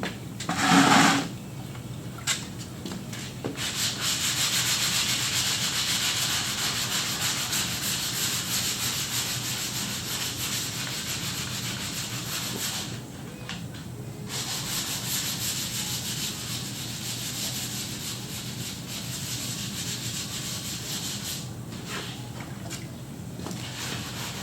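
Hand sanding on the body of a green Chevelle, a steady raspy rubbing that runs continuously with brief pauses and a loud knock near the start, close and moderately loud.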